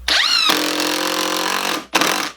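A power drill whines up, runs steadily for over a second, then stops, followed by a brief second burst, close and loud, while pre-drilling screw holes in 2x4 wood.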